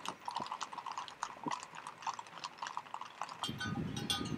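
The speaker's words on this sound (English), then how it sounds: "Clippity-clop, clippity-clop." Horse hooves clip-clop at a steady walking pace, each strike clear and close with light knocking, and a rumble of movement swells toward the end.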